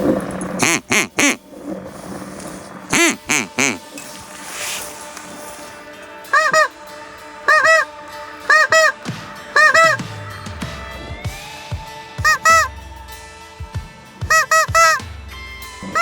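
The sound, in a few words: geese honking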